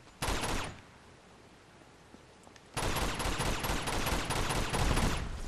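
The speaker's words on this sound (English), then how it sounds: "What kind of pistol is that? The shotgun pistol?" Bursts of shotgun pistol gunfire crackle in a first-person shooter video game: a short loud volley, a quiet gap with faint noises, then a longer sustained barrage of rapid shots.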